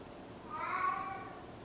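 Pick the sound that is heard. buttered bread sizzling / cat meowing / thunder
cat meowing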